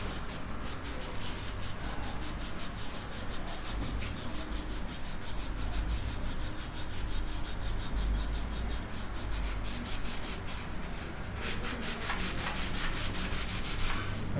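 An instrument part is scrubbed with soap at a luthiery workshop, giving a steady, close, continuous rubbing and scouring sound that runs unbroken with no talking.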